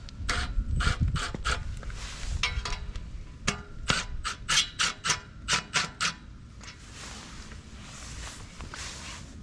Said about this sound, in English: Now you'll see a 1/2 inch hex bolt. You'll need to loosen that up.